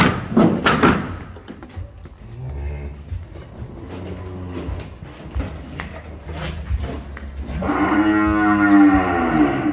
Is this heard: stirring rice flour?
no